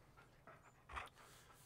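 A dog pants in the Far Cry Primal video game, a short, quiet burst of breathy huffs with a brief stronger puff near the end, alone against faint game ambience.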